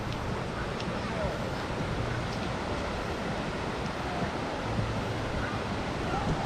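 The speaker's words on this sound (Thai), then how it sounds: "น้ำตกตาดเยืองครับ" Tad Yeuang waterfall in southern Laos gives a constant broadband roar of rushing water, steady and fairly loud throughout, mixed with wind buffeting the microphone.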